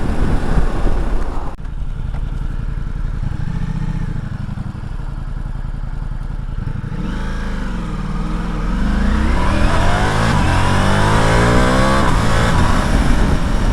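A Ducati Multistrada V4 S motorcycle revs hard and close, climbing through gears with quick, smooth shifts between rising engine sweeps amid steady wind roar.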